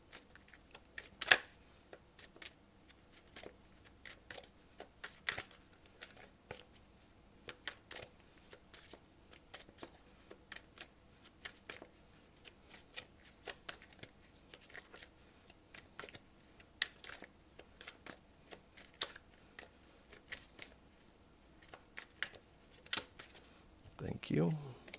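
A Thoth tarot deck being shuffled, with repeated crisp riffles and card slaps in uneven bursts under quiet talk, ending in a sharper snap.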